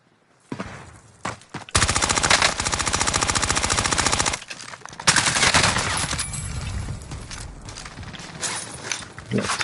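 Rapid automatic gunfire in the Call of Duty Warzone video game, long sustained bursts of close machine-gun fire broken by short pauses, with voices briefly under the shooting.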